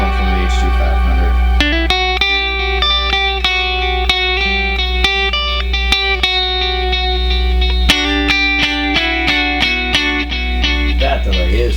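An electric guitar runs through a Line 6 HD500 tape echo delay, playing sustained chords and picked notes that repeat and smear into each other, loud and continuous with a long echoing tail.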